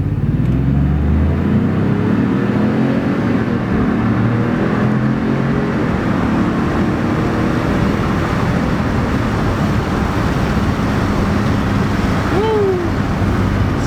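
A 2019 Ford Expedition Limited accelerates hard from a standstill toward 60 mph in sport mode, heard from inside the cabin as a steady, loud engine and road roar that builds and holds without pause.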